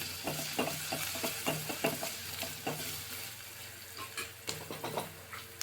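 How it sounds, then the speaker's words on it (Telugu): Ginger garlic paste is stirred into a frying alchanthakaya curry. A steady oil sizzle sounds under repeated rhythmic scrapes and knocks of a spoon against the pan, fairly close and continuous, with no talking. "కొంచెం అల్లం వెల్లుల్లి పేస్ట్ వేసి కలుపుకోవాలి"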